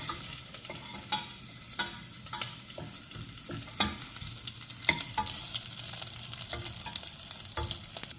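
Green chillies fry in a pan under a constant hiss while a spatula scrapes and taps against the metal at irregular intervals, close up and with no talking.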